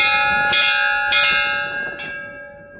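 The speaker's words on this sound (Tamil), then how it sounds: "மணி அடிச்சாச்சு." A temple bell at the Velliangiri hill temple rings out three times in irregular strokes, loud and close, each stroke leaving a long bright ringing decay.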